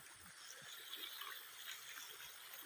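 Water flows in a small river at a fishing spot, a faint, steady, hissing rush of shallow current with no voices, constant throughout.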